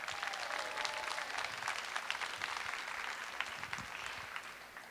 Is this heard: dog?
no